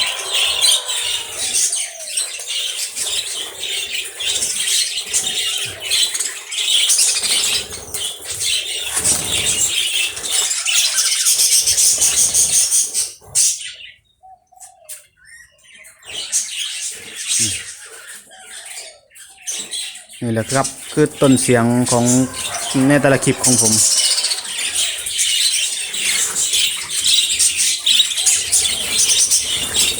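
Busy twittering and chirping of a budgerigar flock, dense and close, with someone talking over it at the start and end.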